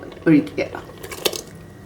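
Metal spoon clinking and scraping in a pot while coconut milk white stew is stirred, a few sharp knocks and soft clatters close by, short and intermittent.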